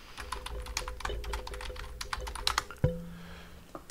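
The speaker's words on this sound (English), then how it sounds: "if I go and type in fixitdelrio.com" Rapid keystrokes on a computer keyboard as a web address is typed, a quick run of close, crisp clicks ending in a firmer key press, with no one speaking.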